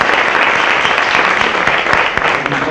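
An audience at a talk event in Marbella applauds loudly and continuously for the speaker, a close, dense wash of clapping with a few sharper individual claps standing out.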